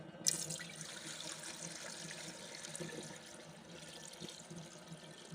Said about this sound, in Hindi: तो इसमें डाल देते हैं पानी।